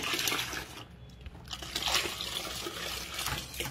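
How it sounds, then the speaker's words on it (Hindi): Water pours into a small mini washing machine tub, a steady splashing, gushing stream that stays close and fairly loud throughout, with no talking. "इसमें हम पानी डाल रहे"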